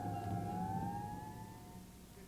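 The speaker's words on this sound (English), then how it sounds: "They sent us a whole mess of red trucks with sirens." Fire truck sirens wail, sweeping slowly in pitch over the low rumble of heavy engines, steady and fairly loud, with no voices.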